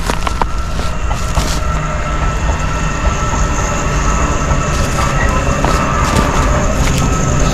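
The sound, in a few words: slow freight train passing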